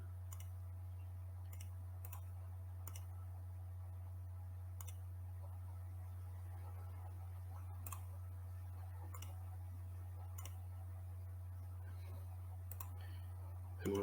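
A computer mouse gives sharp, sparse right-clicks scattered irregularly over about fourteen seconds, set against a constant low electrical hum.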